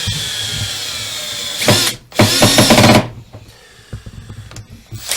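A power drill driving a screw into a wooden A-frame trestle gives two loud, close whirring bursts separated by a brief pause, followed by quieter handling and clicks.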